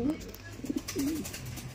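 Pigeons coo in a few soft, low, rolling calls close by at moderate volume, over a light background of room noise and faint voices.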